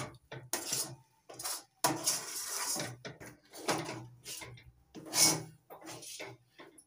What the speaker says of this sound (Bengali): অনবরত নাড়তে হবে, নয়তো দলা পাকিয়ে যেতে পারে।